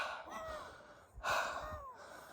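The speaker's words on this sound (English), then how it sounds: "We're both panting" Heavy breathing from two people, ragged panting and gasping with one louder, sharper breath partway through, close to the microphone and without any speech.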